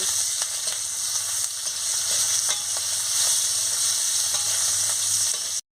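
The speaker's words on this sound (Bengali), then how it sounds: "দিয়ে ভালো করে আমি এটাকে ভেজে নিচ্ছি।" Capsicum sizzles steadily in a hot pan for a paneer curry, with a loud, continuous hiss up close and repeated light clicks and scrapes of stirring throughout, without any voices.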